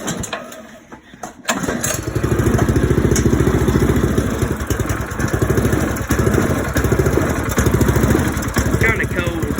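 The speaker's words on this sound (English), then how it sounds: "we're gonna crank it and see what it sounds like before I put the exhaust on it" A Predator small engine with stock exhaust cranks and catches, then runs at a loud, close, steady putter with a rapid even firing rhythm, started with the choke on in cold weather.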